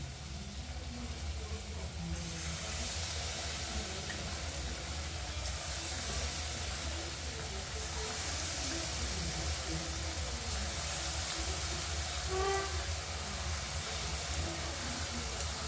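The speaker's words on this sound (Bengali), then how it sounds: "তেলটা গরম হয়ে গেছে, এখন আমি পকোড়াগুলো ভেজে নেব।" Spinach pakoras fry in hot soybean oil with a steady, close, broadband sizzle and hiss that runs unbroken for the whole stretch, with no talking over it.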